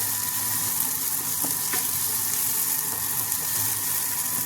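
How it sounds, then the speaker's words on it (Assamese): Onion, garlic and chilies frying in a little leftover oil in a pan, a steady close sizzle running throughout with occasional faint clicks of stirring, no voices. "ধুনীয়াকৈ গোটেইখিনি মই সিজাই লৈছোঁ ইয়াত দেখিছেনে পিঁয়াজ নহৰু আৰু জলকীয়া"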